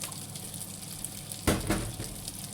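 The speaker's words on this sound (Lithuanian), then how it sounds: "Nupilam kurštą vandenį" Hot water is poured off a pot during home cooking: a brief, splashy gush breaks in after a quiet, hissing kitchen background and then fades.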